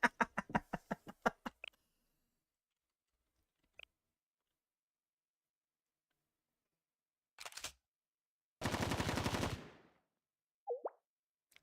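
Gunfire in the video game Blue Archive: a quick burst of about eight sharp shots at the start, then long quiet gaps broken by a single click and a few short noisy bursts, including a longer blast near the end.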